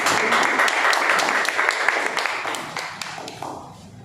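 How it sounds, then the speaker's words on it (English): Applause from an audience at a Toastmasters club meeting, a dense crowd clapping that starts strong and slowly thins out over about four seconds, with a few sharper individual claps near the end. "huge round of applause."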